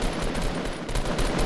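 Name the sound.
gunfire in the video game Fortnite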